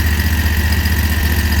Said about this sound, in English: Let go of the throttle. It goes back to idling and it kind of levels out.